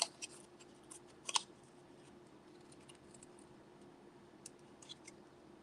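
Scissors cutting at a craft table: a few quiet, sharp snips clustered near the start, then faint scattered clicks over a low hum.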